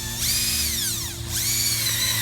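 A power drill with a 7/16 bit boring into a mailbox post, whining loudly and close, with its pitch sweeping down, briefly easing, then rising again.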